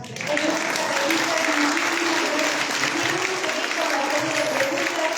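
A church congregation gives a loud, sustained round of applause for a priest, dense clapping from many people filling the space from start to finish, with faint murmuring voices underneath.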